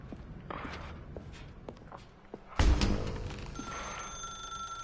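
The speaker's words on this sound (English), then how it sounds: "Now pick up the phone." Telephone ringing in the video game The Stanley Parable, a bright ring that starts abruptly partway through and keeps going, preceded by scattered footsteps and light knocks in a quiet room.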